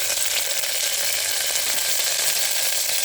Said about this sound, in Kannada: ಎಣ್ಣೆ ಕಾಯ್ತಿದ್ದಂಗೆ ಕರಿಬೇವು